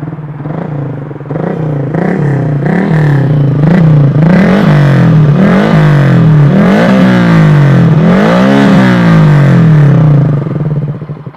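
An MX King 150 motorcycle with a Tridente F20 Raptor aftermarket exhaust in silent mode revs up and down repeatedly at close range, a fairly muted, throaty note with rising and falling pitch.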